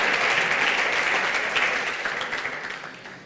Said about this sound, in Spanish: Cuánto un aplauso al Señor bien fuerte